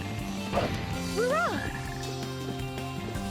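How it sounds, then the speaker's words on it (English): A frog croaks in the video game Sonic Heroes, a short rising-and-falling warbling call that stands out over steady droning game music and effects. "A frog in the vicinity."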